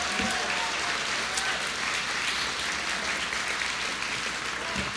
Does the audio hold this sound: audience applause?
yes